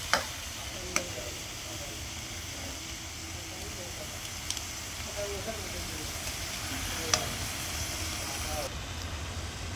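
Spinach fries lightly in a pan with a soft, steady hiss and occasional sharp clicks of a spatula, under faint background talk.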